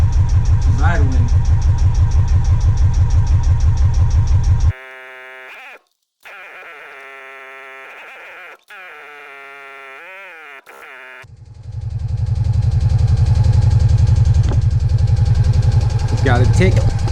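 A 1998 Honda PC800 motorcycle engine idles with a steady low rumble, cutting off briefly in the middle before restarting and settling back into a loud, continuous idle.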